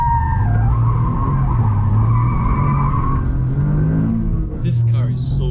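Toyota Yaris GR rally car sliding sideways on a stage, with loud sustained tire skid and a steady engine rumble throughout, close and dominant, and a voice calling out under the noise.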